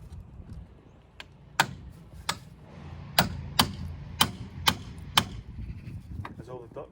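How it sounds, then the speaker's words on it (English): A cold chisel is hammered to split a part during coil spring replacement on a Citroen Relay van. About eight sharp metallic strikes ring out at irregular intervals, close, over a faint background. "I'm just going to try and split this using the chisel a wee bit at the back."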